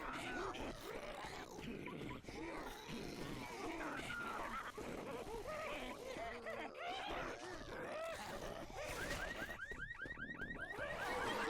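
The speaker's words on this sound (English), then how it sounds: "So they shoot the car alarm?" A car alarm in a video game tournament match wails loudly amid dense game noise and growls, its cycling siren most distinct toward the end of the stretch.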